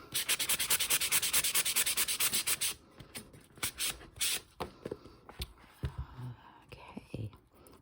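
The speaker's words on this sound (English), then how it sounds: "I might see if I can find like even some sandpaper." Sandpaper rubs back and forth along the cut edge of a Hobonichi Cousin notebook in fast, even, loud strokes for a few seconds, then gives way to softer scattered rubbing and handling noises with a voice talking.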